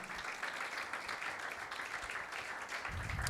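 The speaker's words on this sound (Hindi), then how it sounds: "यीशु के लिए तालियां बजाएं जिसने आपकी आवाज को सुना है।" A church congregation claps and applauds together at a Sunday meeting, producing a dense, continuous wash of clapping that stays fairly even and moderately loud from start to finish.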